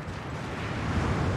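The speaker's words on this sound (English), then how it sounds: "Ah, no, their cannons are firing at us again." Cannon fire on a Total War: Fall of the Samurai battlefield, heard as a dense, continuous low rumble of booms that blur together, loud and steady throughout with no voices.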